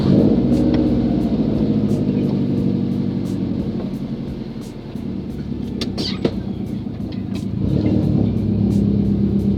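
Subaru Impreza WRX engine running: a steady low rumble near the microphone with small rises in revs and faint ticking above, loud and continuous throughout.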